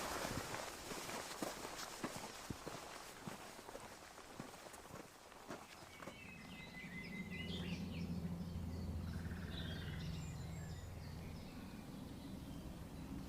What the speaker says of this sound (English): that is a nightingale deep in the thicket